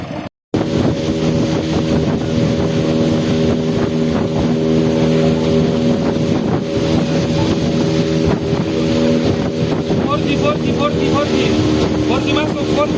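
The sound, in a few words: traditional boat with outboard motor running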